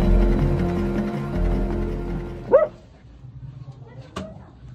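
A large dog trapped behind a wall gives a single deep bark after a stretch of muffled rumbling, followed by a quieter yelp a moment later.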